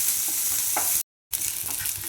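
Mustard seeds and chopped shallots stirred in coconut oil in a pan for a jackfruit masala curry tempering, a steady bright sizzle with soft scraping, broken by a brief silent gap before the frying resumes.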